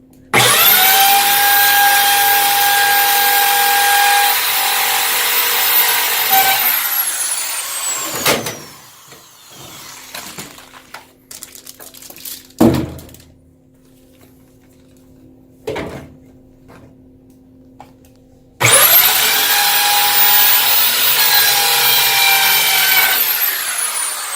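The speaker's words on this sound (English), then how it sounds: "We're going to do the bottom screw now." A power drill driving screws into a delivery door kit (Model 3589). Loud sustained whirring bursts at the start and end frame quieter clicks, knocks and handling noises in between.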